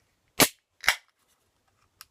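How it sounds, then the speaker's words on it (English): A can of Common Grounds Triple Coffee Porter beer cracks open with two sharp, close snaps of the tab and a brief hiss, followed by a tiny click, with no talking. "it seems like the perfect time to crack open a can of this"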